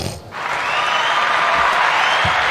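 Applause from a crowd rising quickly into a steady, dense wash of clapping that holds at a fairly loud level for a couple of seconds.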